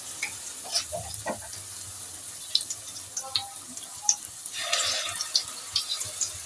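Laddu peethi dumplings fry in oil on a medium-low flame, a steady soft sizzle with scattered pops and light utensil clinks, swelling briefly louder midway, no talk.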